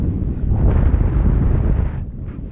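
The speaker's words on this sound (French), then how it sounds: "Oh, le vent est bon là, c'est mieux." Strong wind rushes and buffets against the microphone during a paragliding flight, a loud continuous roar with no speech.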